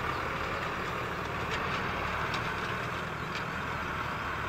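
Two Valtra tractors rated well over 100 horsepower cultivate a hillside field, their engines giving a steady, dense diesel roar with no break and no talk.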